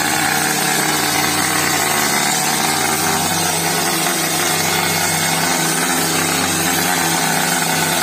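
A new plastering machine sprays cementitious render onto a rough wall, a loud, constant motorized roar and hiss that stays level throughout with no pauses.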